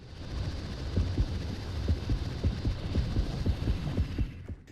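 In the underwater video game Depth, a steady heartbeat warns of nearby sharks: a rhythmic series of soft, low, paired thumps pulses over a droning hum, with no talking.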